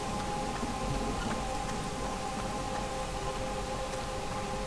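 Steady hissing video-game rain in Pineview Drive patters continuously, with a faint, even wash of drops and no voices.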